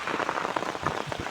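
Steady rain falls during a Kalbaishakhi storm at a farm in Bangladesh, a dense, even patter of drops that continues without a break.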